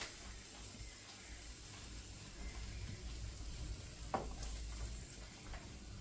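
Egg and flour (maida) batter frying in a hot pan gives a steady, close sizzle that runs unbroken throughout, with a few faint clinks and no one talking.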